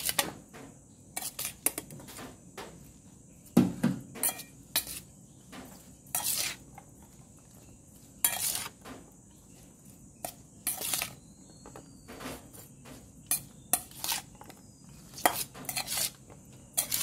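A utensil scrapes and clinks against a bowl while ingredients are mixed with vinegar, producing irregular metallic taps and scrapes separated by short quiet gaps, close and clear.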